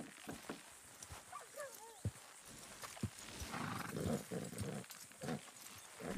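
Horse hooves clopping and a short whinny in the Western video game Red Dead Redemption 2, fairly faint beneath a busy game soundscape with scattered thuds.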